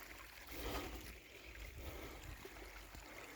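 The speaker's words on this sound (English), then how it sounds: "this is where the water's coming out of the pond" Water pouring out of an old pond through a sluice outlet at Goetre Pond in Merthyr Tydfil, a steady broadband rush with some wind, continuous and fairly close throughout.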